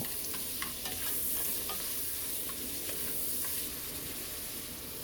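Tomato and meat sizzle steadily in a hot pan for a Filipino ampalaya con karne dish, a constant close frying hiss broken by light scraping taps of stirring.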